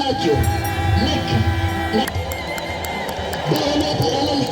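A church congregation at Menbere Tsebaot Holy Trinity Cathedral in Addis Ababa ululates together in a loud, sustained, high-pitched collective trill, with crowd noise underneath.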